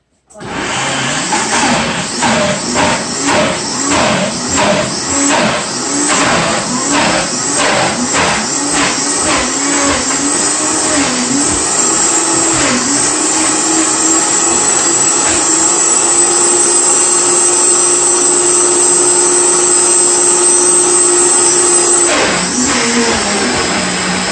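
An electric blender whizzes lemon juice with peppers, starting with a series of pulsing bursts, then settling into a loud steady whirring drone that shifts pitch and cuts off near the end.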